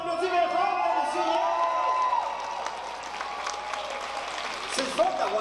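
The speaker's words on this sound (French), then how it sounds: "Luc Brisson, on applaudit bien fort, monsieur." Applause and scattered cheers and whoops from a concert crowd, moderately loud and continuous, with voices and chatter mixed through the clapping and a brief surge of shouts near the end.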